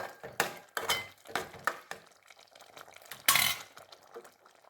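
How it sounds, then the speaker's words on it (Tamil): A spoon stirs rice upma in a pan, scraping and clattering in several distinct strokes with short pauses between them, close and fairly loud, with no talking. "திறந்து அப்படியே ஒரு கிண்டு கிண்டி நல்லா சிம்மில் வச்சு நல்லா புழுங்க வேக வைக்கணும்"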